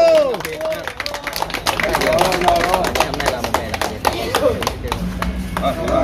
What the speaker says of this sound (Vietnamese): anh em mình cùng vỗ tay cổ vũ